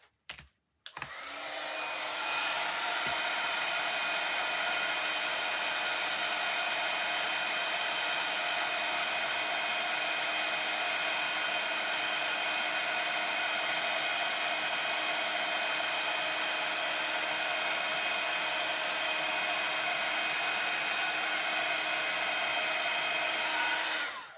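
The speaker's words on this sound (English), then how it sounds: "Get my heat gun and dry that off." Heat gun blowing hot air to dry a mixed-media journal page, a steady loud broadband whoosh with a constant motor whine, running unbroken for over twenty seconds after a brief start.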